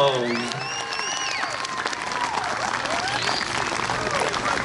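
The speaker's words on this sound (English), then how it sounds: "Give them a big round of applause." A crowd at an outdoor BBQ competition in Gainesville, Georgia applauds steadily, with cheering voices and whoops rising over the continuous clapping.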